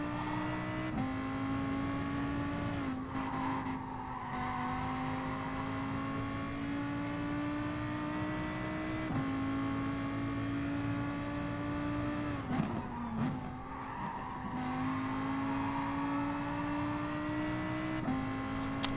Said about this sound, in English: Driving the Lamborghini Huracan